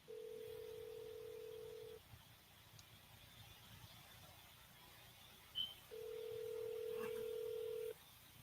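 Telephone call audio with a steady two-second tone, a long quiet gap holding a brief click, then a second two-second tone, all fairly faint.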